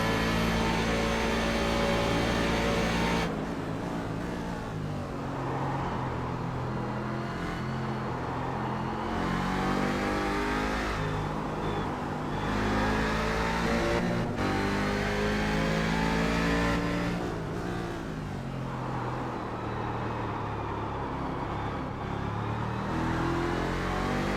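Onboard a race car lapping the Spa circuit in a Grand Am round, the engine roars continuously, with clear rising revs, gear changes and brief drops through corners, loud and close for the whole lap.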